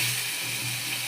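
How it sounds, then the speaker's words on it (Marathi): Onions frying in a pan for fish curry give a steady, soft broadband sizzle that holds evenly throughout, close up and alone with no voices. "कांदा त्याच्यात खूप छान फ्राय झालेला आहे."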